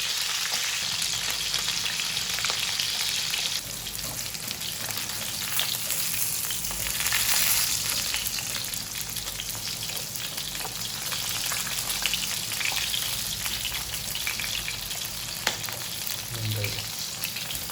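Milkfish (bangus), lightly coated in cornstarch, frying in a pan with a steady, dense sizzle and crackle throughout, close and fairly loud, with a brief lull and a few small pops near the end.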